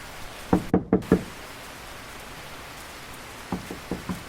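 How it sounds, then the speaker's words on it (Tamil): Knocking on a door during a downpour: a quick series of four raps, a pause, then four softer raps, over steady hissing rain. "யாரோ கதவை தட்டுறாங்களே இந்த மழையில."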